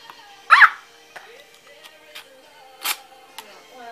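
A dog gives a couple of short barks, one early and one near the end, moderately close, amid quiet background and faint voice activity.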